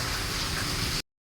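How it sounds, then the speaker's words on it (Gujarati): Heavy rain pouring down outside a shop, a dense, even hiss of falling drops lasting about a second before cutting off abruptly. "ભાઈ જોઈ શકો છો સારો એવો વરસાદ પડી રહ્યો છે."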